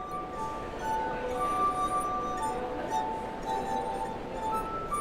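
Musical glasses played with rubbed rims ring out in sustained, pure singing tones, several notes overlapping like soft chords, steady and moderately close for the whole stretch.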